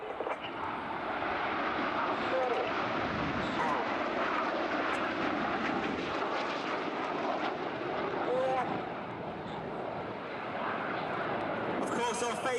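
RAF Red Arrows jets flying in formation at an air festival at Ragley Hall, a steady broad roar of jet engines holding loud and continuous throughout with little variation.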